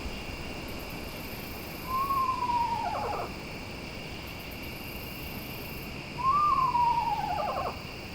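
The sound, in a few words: screech owl calling at night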